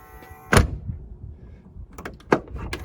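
Door of a 1969 Buick GS400 A-body being opened, with a sharp mechanical clunk followed by quieter latch and hinge clicks and a second metallic knock.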